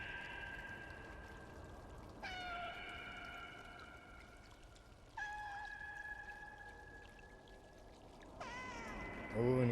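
Cats calling out in the Stray video game, several drawn-out meows spaced a couple of seconds apart over a steady watery ambience, with a louder call near the end.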